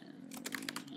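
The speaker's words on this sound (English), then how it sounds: "just start typing in the name of anyone" Quick, light key clicks from a computer keyboard in a short burst, close up and fairly soft, with a steady low hum underneath.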